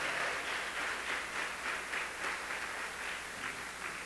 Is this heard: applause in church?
yes